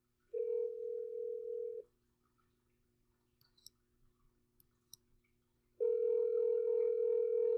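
A steady telephone tone sounds while placing a call, holding for over a second, dropping to faint clicks and small noises, then returning loud and continuous.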